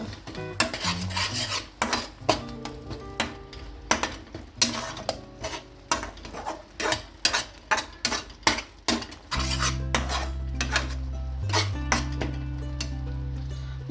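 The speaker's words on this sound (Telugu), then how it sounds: "అలాగే half spoon garam masala powder కూడా వేసుకుందామండి. కలుపుకుందాం." A spoon stirs garam masala and cumin powder into paneer masala curry in a metal pan, scraping and clinking in a steady rhythm of close, distinct strokes, with a low sizzle underneath that deepens toward the end.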